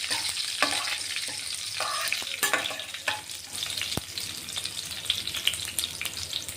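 A pan of poha tempering sizzles hard: mustard seeds, cumin, curry leaves and reddened garlic frying in oil, with a dense, loud crackle and a sharp scrape of stirring now and then, up close and without voices.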